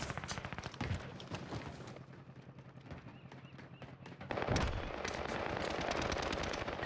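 Heavy gunfire in Warzone: rapid machine-gun bursts rattle continuously at moderate distance, intensifying into a louder dense barrage near the end, with no speech.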